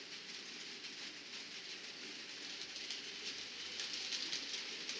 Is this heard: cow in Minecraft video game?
no